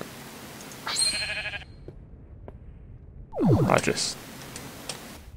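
A Minecraft sheep bleats twice, a short high bleat early and a louder wavering one later, over a low steady background hum.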